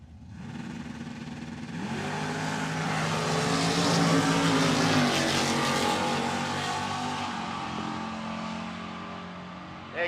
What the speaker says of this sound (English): Here comes those Junior Dragsters.